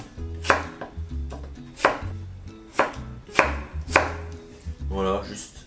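A knife chops peeled potatoes coarsely into large chunks on a board, a series of about eight firm, close thuds in a loose, quick rhythm with no voices.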